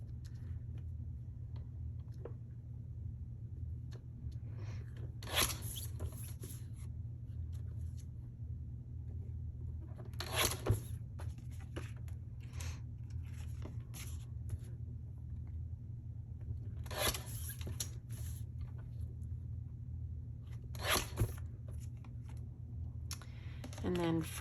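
Paper photos being trimmed to 4x4 for a scrapbook layout, with several short crisp bursts of cutting or slicing spaced through the clip over a steady low background hum.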